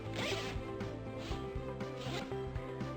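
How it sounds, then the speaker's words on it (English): A zipper on a fabric display graphic being unzipped, producing a close, continuous rasping zip with a few short pulls and pauses, quiet and heard alone. "So I'm just going to unzip the graphic"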